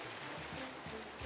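Flowing water in The Legend of Zelda: Skyward Sword, a steady stream-like rush with a soft swell near the end, heard alone at moderate level.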